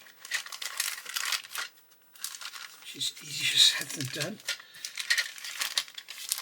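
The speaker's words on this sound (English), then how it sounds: "can't even open a plastic bag" Plastic bag around a model kit's sprues crinkling and rustling as it is cut and pulled open, close and fairly loud, with someone talking over and around it.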